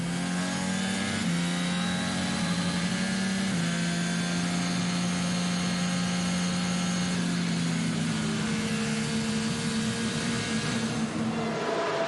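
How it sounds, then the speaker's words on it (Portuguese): A Renault Formula 1 engine roars continuously during practice at Silverstone, its pitch climbing and dropping through gear changes, loud and steady throughout. "Vamos ouvir um pouquinho o motor Renault?"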